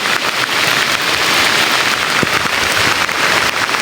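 Heavy rain pours down steadily, a dense wash of hiss drumming on surfaces with scattered louder drops, loud and continuous throughout.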